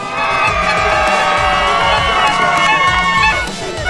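A loud, dense crowd cheers and shouts without pause at a North vs South riding event, with voices from the Eastern Cape and KwaZulu-Natal sides mixing into a steady roar that fades a little near the end.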